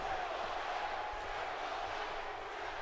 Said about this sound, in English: Listen to the crowd. They're getting behind him.